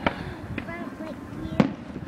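Fireworks bursting at a display, two sharp booms about a second and a half apart with crackle between them, heard under people talking nearby.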